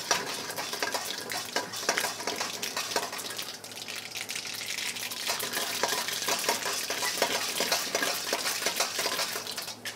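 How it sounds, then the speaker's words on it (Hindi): Urad dal browning in a hot pan for a papaya and carrot thoran, stirred steadily with a spoon: a continuous dry scraping and rattling with a soft frying hiss, close and even throughout, no voices. "उड़द दाल, और इसे हल्का सा ब्राउन कीजिए उड़द दाल को।"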